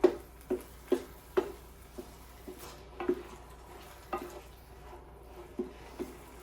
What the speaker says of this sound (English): I am gonna get this all stirred in and get it incorporated.